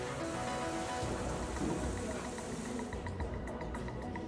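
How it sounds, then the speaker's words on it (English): Torrential rain pours steadily during severe flooding that has swamped homes, businesses and roads, a dense, continuous hiss with scattered drop impacts and a low rumble beneath, heard alone without talk. "Torrential rains have flooded homes, businesses and roads."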